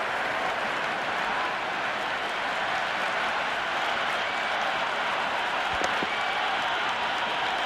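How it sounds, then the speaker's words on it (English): Simulated cricket stadium crowd in the video game Cricket 26 keeps up a steady, dense roar of cheering and applause, with a distant continuous wash of many voices. "The crowd is electric right now."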